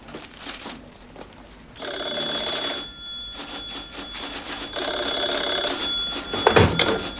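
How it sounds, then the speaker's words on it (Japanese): A telephone rings in two long bursts separated by a short pause, loud and close, and a brief knock or thunk comes near the end of the second ring. "電話ですよ。"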